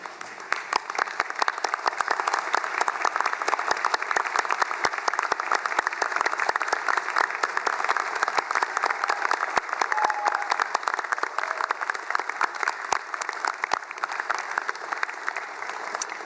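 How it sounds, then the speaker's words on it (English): Sustained, dense applause from standing graduates at a university graduation ceremony in Hobart, steady and full for the whole stretch with no talk over it. "express your gratitude with a round of applause"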